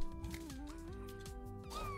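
A cartoon ghost cat meows in the video game Neko Ghost, Jump!, a clear, close, drawn-out mewing that glides up and down in pitch over game music, with no voices.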